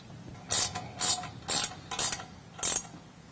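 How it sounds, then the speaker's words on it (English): Wrench tightening 5/8 in and 11/16 in bolts on a rear bumper tire carrier for a Jeep JL, heard as five evenly spaced bursts of ratcheting clicks, close and fairly loud, with no talk. "Now we'll go ahead and tighten these in place using a 5/8 in wrench and 11/16."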